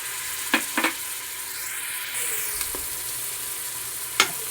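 Tomato being mixed into frying masala for mutton biryani, a steady sizzle with a few sharp spoon scrapes and clinks against the pot, moderately loud and without talk.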